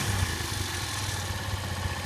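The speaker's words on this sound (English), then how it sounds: "We'll just fire it up. It's nice and quiet." A Sachs Madass 125 motorcycle fitted with a 26 mm carburettor idles close by, a steady low, even putter with no other sounds.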